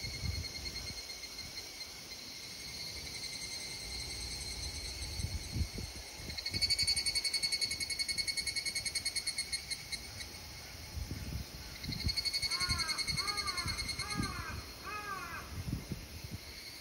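Annual cicadas singing in a chorus, with loud buzzing waves of song swelling and fading over steady insect background hum, plus a few nearby crow-like caws toward the end.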